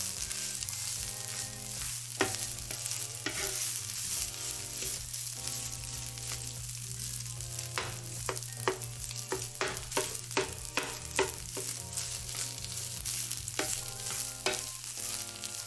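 Thin slices of meat frying on a tabletop grill for Japanese gyukaku-style barbecue, a continuous close crackling sizzle with frequent sharp pops and a low steady hum underneath, no talking.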